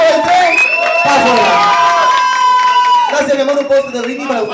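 A crowd at a Spanish-language comedy variety show cheers and whoops for the third contestant, loud massed voices with some clapping, rising and falling, while a host's voice cuts through near the end.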